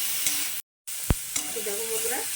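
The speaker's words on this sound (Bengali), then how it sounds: "এবার এটাকেও আমি আরেকটু ভালো করে ভেজে নেবো, আর একটুখানি ভাজবো" Ridge gourd frying in a pan for a South Indian–style chutney, a steady close sizzle with stirring scrapes, briefly cut to silence midway and broken by a sharp utensil knock.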